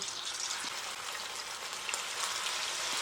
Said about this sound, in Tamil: அதே மாதிரி அடுத்த செட்டையும் ஃப்ரை பண்ணி எடுத்து வச்சுக்கோங்க